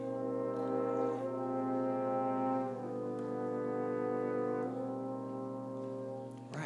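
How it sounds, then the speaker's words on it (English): A soft orchestra plays a slow tune wrapped in sustained minor-chord harmonies, rich layered strings swelling and changing chords every couple of seconds, no talking. "We could surround that with just some minor chords, some harmonies that support that minor sound."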